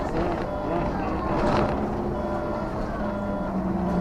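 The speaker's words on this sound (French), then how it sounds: "Ça, c'est un vrai moteur, ça." German-built engine of a Transdev bus on route 643 between Gare du Vert-Galant RER and Neuilly Château d'Eau, a steady, loud low drone heard from close by with a slight rise in tone partway through, and a voice talking over it.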